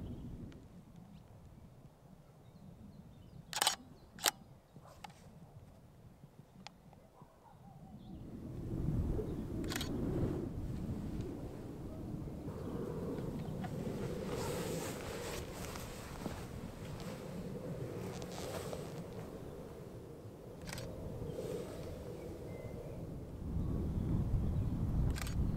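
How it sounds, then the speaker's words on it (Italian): Several sharp camera shutter clicks from landscape shots taken in fog on Monte Suchello at sunset, spaced irregularly over a steady rush of mountain wind that grows louder partway through. "Sono riuscito a scattare qualche foto nonostante la nebbia"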